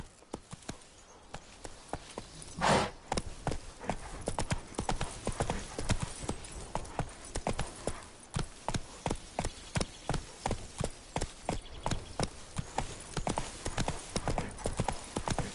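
Video game horse Roach galloping, with rapid rhythmic clip-clop hoofbeats that start uneven, then settle into a fast steady gallop, loud and close, with a brief whinny-like burst early on.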